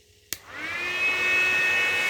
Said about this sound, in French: le gros ventilateur. Et je peux vous dire que ça souffle sévère.